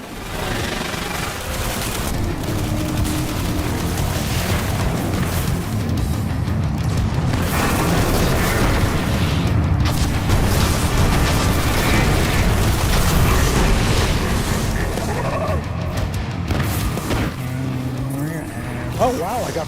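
Rocket launcher explosions and gunfire in the video game Destiny, dense and continuous booms and bursts throughout, loud, with someone talking over the action.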